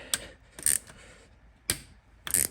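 A ratchet works on the alternator of a BMW 335i during removal, giving four short bursts of rapid metallic clicking separated by quiet pauses, close up and with no talking.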